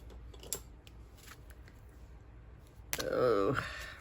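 Scissors snip once faintly, then make a louder, longer cut in a quiet indoor room, with brief clicks earlier and no talking over the cut.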